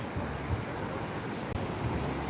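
Sea waves roar on Cox's Bazar beach at night, a dense continuous wash of surf with wind noise on the microphone and no clear individual breaks.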